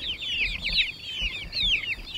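Young meat bird chicks fresh out of the brooder chirp and peep continuously, close and fairly loud, with high, rapid overlapping calls.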